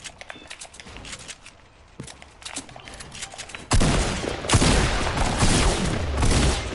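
Gunshots in the video game Fortnite: a few sparse distant shots at first, then a loud dense burst of rapid gunfire that continues to the end, with no talk.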